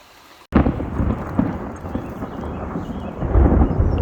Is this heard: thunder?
yes